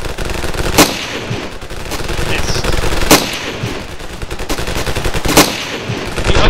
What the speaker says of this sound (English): Using pistols to fire at the enemy down there.